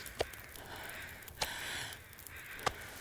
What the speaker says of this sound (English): is it now like, less windy, and so that's why the crows are out?